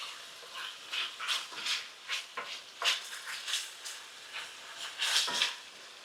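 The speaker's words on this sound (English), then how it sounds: "Love that sizzle." Chicken sizzles steadily in a hot pan, with a bright crackling hiss that swells and spits in irregular bursts, close and fairly loud.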